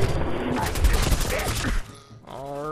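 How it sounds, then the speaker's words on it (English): Enemy gunfire in Fallout 4 erupts as a dense, loud burst of rapid shots for nearly two seconds, then drops away to a sustained tone as a voice starts speaking. "And they are now shooting at me."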